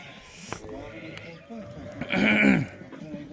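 A nine-month-old female lamb gives a bleat near the end, loud and close, following a stretch of faint background sounds.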